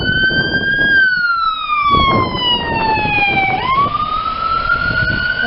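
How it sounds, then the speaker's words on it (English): A loud emergency vehicle siren wails close by during Hurricane Humberto in 2019, its tone dipping low and then sweeping back up, over rumbling traffic and wind noise. "here comes an emergency vehicle"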